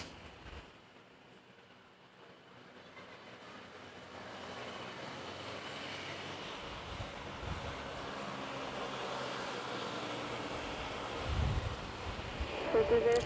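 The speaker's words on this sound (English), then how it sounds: "That's a smooth takeoff." A jet airliner taking off at Manila's NAIA airport, its broadband roar building from quiet to a loud, steady rush that holds, with a faint voice near the end.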